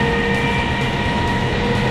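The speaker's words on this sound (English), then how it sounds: "I don't know if you can hear me very well because the train's quite loud." Steady loud rumble and rattle inside a moving train carriage, with broad low-frequency roar, faint clickety-clack and a constant whine running through the whole stretch, no voices.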